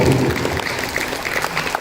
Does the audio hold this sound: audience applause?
yes